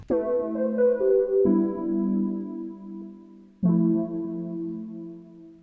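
A sustained synth chord progression: one chord rings out, shifts to a second chord, then a third enters after a short gap; smooth, warm pads with no voices.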